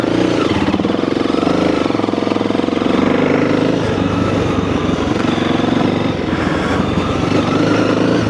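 A Honda CRF300L dirt bike runs off road at low speed, its single-cylinder engine a loud, steady, close-up thrum with slight rises and dips in revs as the throttle is feathered in second gear.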